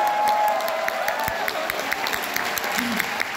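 A festival crowd applauds and cheers steadily before a pansori and popping performance, a dense, continuous wash of clapping with scattered shouts, loud and enveloping.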